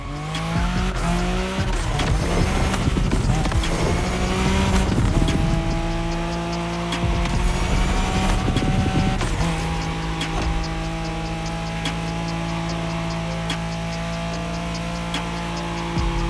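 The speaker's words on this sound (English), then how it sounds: "Drift for style or tight drift for speed." A car drifts in The Crew Motorfest with loud, sustained tire squeal over a roaring engine, the screech holding steady through long slides with shifts in pitch as the car changes direction.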